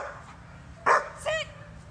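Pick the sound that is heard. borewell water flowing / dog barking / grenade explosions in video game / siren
dog barking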